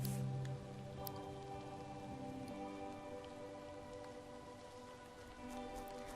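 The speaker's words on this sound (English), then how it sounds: "Oh, I like it's raining now, so there's like weather" Steady rain in the video game Cassette Beasts patters across a surface, a dense wash of droplets with no voices, holding at an even, moderate level throughout.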